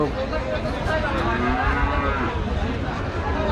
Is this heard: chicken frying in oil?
no